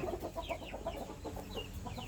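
Burmese chickens on a farm giving soft, repeated clucks in a quick irregular rhythm, fairly faint and close, with a few higher chirping calls mixed in.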